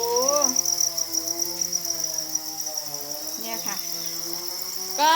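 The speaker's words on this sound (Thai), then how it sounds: "เขากำลังกินอาหารกันอยู่เสียงอาจจะเป็น จิ้งหรีดเสียงดังที่นิดๆ" Steady high-pitched cricket chirring fills the background, with animal whines and calls rising over it now and then.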